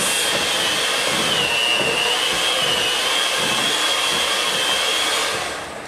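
An electric mixer whirs steadily through a thick batter in a bowl, a loud, continuous motor drone that holds for several seconds and then tapers off at the end.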